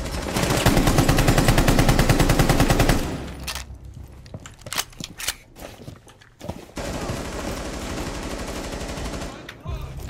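Rapid gunfire in the tactical shooter Rainbow Six Siege, a dense sustained burst for about three seconds, then scattered sharp shots, and another steady stretch of fire near the end.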